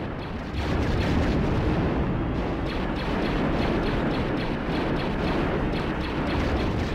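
Heavy blaster fire and explosions from the Star Wars Episode I: Battle for Naboo video game form a dense, loud, continuous barrage of booms and bursts with little let-up across the whole stretch.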